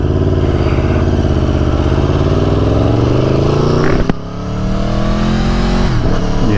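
A 2018 Aprilia Tuono motorcycle's engine roars loudly and close while riding, its pitch climbing steadily under acceleration. It drops briefly with a gear change and then climbs again.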